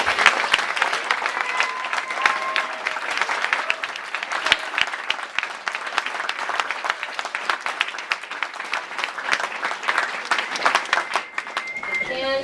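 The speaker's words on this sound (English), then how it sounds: "give one last round of applause for Bill" An audience at a labor talk gives one last round of applause, sustained crisp clapping from many hands, with voices and cheers rising through it.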